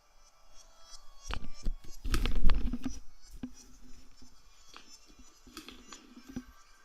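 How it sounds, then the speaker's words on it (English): Soft, irregular shuffling and rustling close by, with a denser burst of scuffing in the middle, then lighter scattered handling noises fading out. "Okay, I hear the shuffling."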